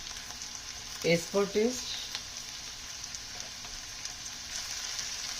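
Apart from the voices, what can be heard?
asparagus sabzi frying in a pan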